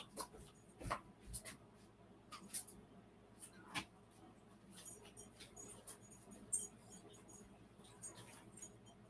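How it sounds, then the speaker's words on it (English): A dog scratches and tears at a floor covering indoors, producing intermittent scraping, scuffing and rustling bursts that are fairly faint and irregular, with no clear speech. "My dog's over here trying to tear up my floor covering."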